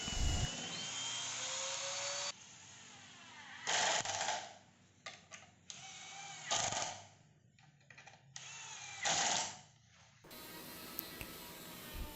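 A power drill bores and drives screws while a TV cabinet is assembled, coming in several loud whirring bursts of a second or so, separated by quieter gaps and the clatter of handling.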